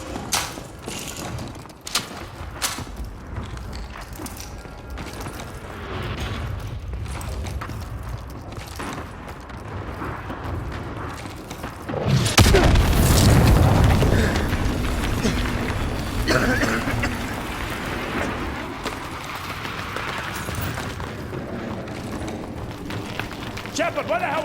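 Heavy naval shelling explosions in Call of Duty Modern Warfare 2 Remastered, a loud booming blast hitting midway and rumbling on as battle noise continues, with soldiers talking over the gunfire.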